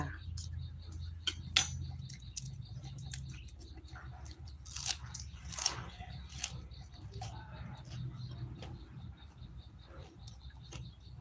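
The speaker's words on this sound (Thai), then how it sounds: "มาทานข้าวกันค่ะ" Faint, intermittent crunchy chewing while eating a meal of salted silver barb and tilapia, with scattered soft bites over a low background hum.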